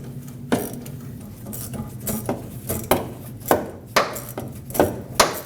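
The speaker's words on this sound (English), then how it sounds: "Use a 10mm socket and loosen up this clamp." A ratchet with a 10mm socket loosens the fuel filler neck hose clamp on a 2005-2021 Nissan Frontier, giving a series of sharp, close metallic clicks in an irregular rhythm over low background noise.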